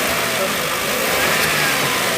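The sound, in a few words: Maruti Suzuki WagonR CNG engine being revved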